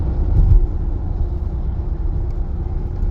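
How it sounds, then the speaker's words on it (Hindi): Steady low road rumble and engine drone from inside a car cruising on a highway, with a brief louder thump early on and no talking. "मैडम शहीना गाड़ी चला रही हैं"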